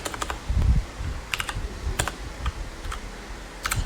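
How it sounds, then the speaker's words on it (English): Someone types on a computer keyboard in short irregular bursts of crisp clicking keystrokes with pauses between, close and clear, with no voices. "you can just go into the search bar and type in run"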